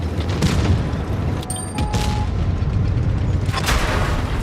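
A Grille 15 tank destroyer's shot in World of Tanks, a heavy boom inside dense battle noise, with another blast rising near the end over a constant loud rumble.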